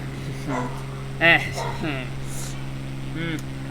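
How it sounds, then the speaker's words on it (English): Dogs bark in short yips and bow-wows, a few scattered barks over a steady engine hum and a voice talking, heard in the cabin of a flight simulator game. "Lovely dogs."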